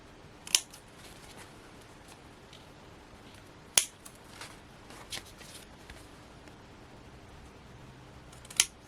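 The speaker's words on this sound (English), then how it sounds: "Just going to cut to the line of the card." Scissors snip through craft card along a line, a few sharp crisp cuts spaced out over soft paper rustling and handling noise, close up.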